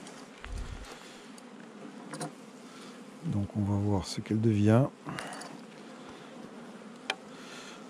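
Honeybees hum around stacked beehive boxes in a constant low buzz. A person speaks briefly nearby, and the buzzing continues quietly between the words.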